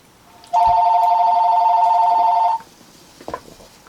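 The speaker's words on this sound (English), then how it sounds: "And that's the phone ringing." A telephone rings once in a single steady electronic trill lasting about two seconds, loud and close, followed by faint rustling and no speech.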